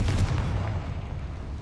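A Confringo fire spell explodes in the game Hogwarts Legacy, a muffled boom that fades into a low rumbling tail over a second or so.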